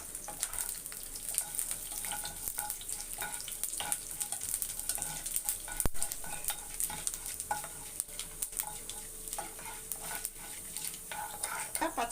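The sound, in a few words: chana dal frying in oil in a pan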